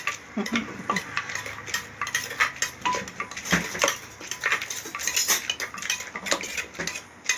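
Papaya salad with chicken feet being mixed in a bowl: close, rapid clattering and tapping of utensils against the dish in an uneven, continuous rhythm, with no talking.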